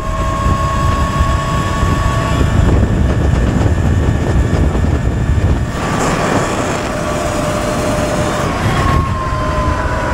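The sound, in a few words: Talaria MX5 Pro electric motorbike accelerating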